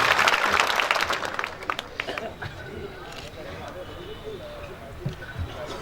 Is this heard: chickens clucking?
no